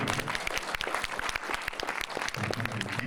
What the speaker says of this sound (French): Oui, ça mérite applaudissements.